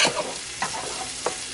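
Food frying in a pan while being whisked, a sizzling bed with three quick scraping whisk strokes close by, no voices.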